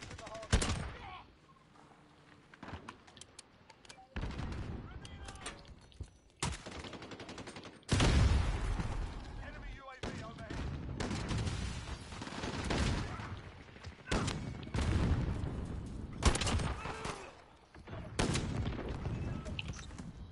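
Explosive .50 cal rounds fired in a video game, heard as loud bursts and booming shots scattered between quieter gaps, with some game noise in between.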